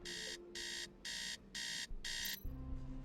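Video game alarm clock beeping, five evenly spaced bright electronic bursts in quick succession, then a short tone and a low hum as the alarm ends.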